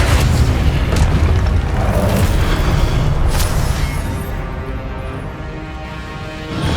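Explosive Confringo spell blasts in the Hogwarts Legacy video game during a Percival Rackham trial fight, a loud sustained booming rumble that gradually eases off, with no talking.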